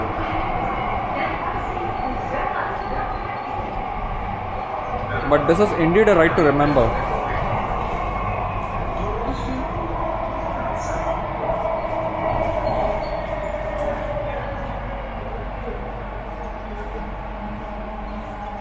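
Underground Mumbai Metro Aqua Line train running through a tunnel, a constant loud rumble and hum with a brief squealing surge partway through, while someone talks over it.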